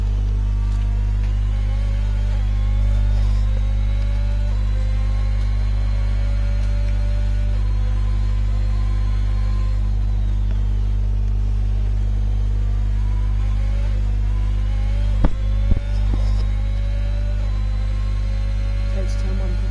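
A Ferrari OP05 race car engine in the Forza racing game, heard onboard at Austria as a loud, steady droning hum that rises and falls through gear changes, with a brief burst of extra noise near the end.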